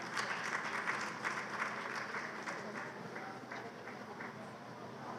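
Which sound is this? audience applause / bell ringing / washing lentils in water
audience applause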